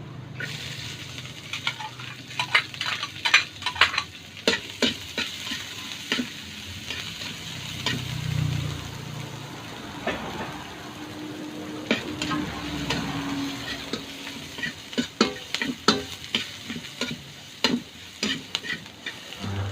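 Onion and garlic sautéing in a pan for chicken tinola, a steady sizzle broken by frequent sharp scraping stirs and clacks of a utensil against the pan.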